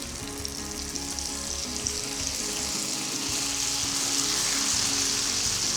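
Grated raw green mango fries in a pan for a mango pulihora, giving a loud, close, continuous sizzle with bubbling crackle that swells slightly toward the end, with no talking.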